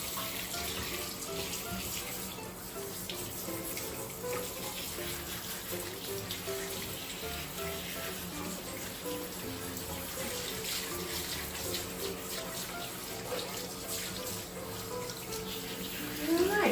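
Water runs steadily from a tap into a bath while a dog named Tootsie is rinsed, a continuous splashing rush with slight variations throughout; no clear talk.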